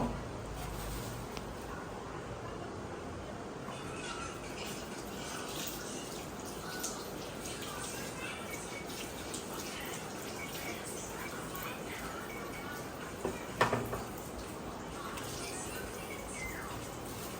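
Cucumber and mint leaves washed under a running tap, a steady stream of water splashing and dripping with a brief clunk near the end, and faint bird chirps and a distant voice in the background.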